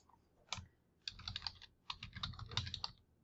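Someone types on a computer keyboard in short bursts of quick, light key clicks with brief pauses between them. The sound is close and quiet, with no voices.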